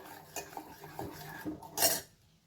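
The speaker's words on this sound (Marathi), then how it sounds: "आता हे सतत हलवत जोपर्यंत उकळी येत नाही तोपर्यंत याला सतत हलवत राहायचंय" A spoon stirring coconut kadhi, a yogurt curry, in a pot, giving a few soft scrapes and clinks followed by one louder metallic clatter, close and alone.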